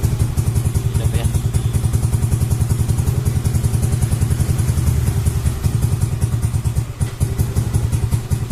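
Nearby, a Yamaha Lexi/Aerox scooter engine idles after being started, its rapid, regular thudding beat and faint clatter steady for several seconds, with a small dip near the end.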